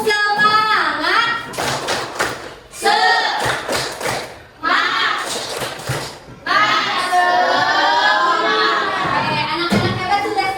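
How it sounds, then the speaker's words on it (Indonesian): Schoolchildren in a classroom perform the tepuk semangat rhythmic clapping routine, sharp patterned claps in quick bursts mixed with loud group chanting led by a teacher's voice. "Kita tepuk semangat dulu."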